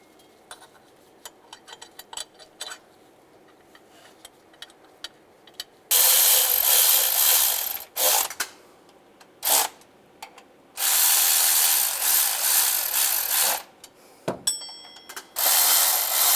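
A ratchet works on the timing cover bolts of a 2007–2013 Chevy Silverado: faint, quick ticking clicks at first, then several loud, harsh bursts of noise separated by short pauses.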